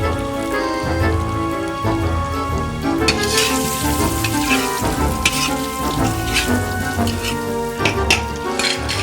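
Potatoes dropped back into hot oil in a kazan, frying with a dense, crackling sizzle that fills the whole stretch, bursts of popping spatter rising and falling, no voices.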